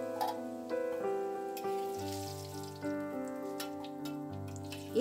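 Potatoes frying in oil seasoned with salt and turmeric, a steady soft sizzle running continuously under a low tonal hum, with occasional small pops and ticks.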